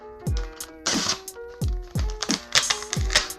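A blade slicing open a mail package of Marvel trading cards, giving a run of sharp scraping and tearing cuts with low thumps, close and fairly loud, with no talk.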